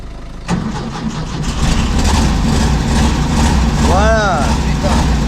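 A Volkswagen Combi van engine starts abruptly and then runs steadily, loud and close, with a raised rev, while people talk over it.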